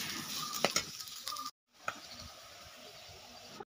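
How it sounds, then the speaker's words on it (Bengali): Onions, garlic and chillies sizzle and crackle in a hot pan while being stirred for a chicken and potato curry, with a few sharp scrapes and a brief silent break midway. "ভালো করে নাড়াচাড়া করে কিছুক্ষণ ভাজতে হবে।"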